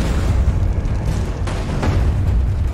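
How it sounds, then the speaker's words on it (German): A cannonball explodes in the video game Alice Madness Returns: a loud, rumbling boom with deep low-end energy that fills the whole moment, sustained without pause. "da bin ich einer Kanonenkugel ausgewichen"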